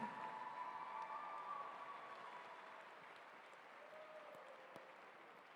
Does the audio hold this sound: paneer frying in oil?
no